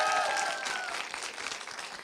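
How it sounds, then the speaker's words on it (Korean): Audience at a youth education forum in a hall breaks into applause, a brisk crowd clapping that holds steady for a couple of seconds, with a brief tonal squeal of feedback at the start. "박수 한번 주시면 좋겠습니다"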